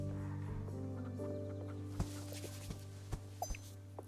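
Chickens in the game Star Stable Online cluck in short, scattered bursts over a steady droning background, with a few sharper pecking clicks near the end.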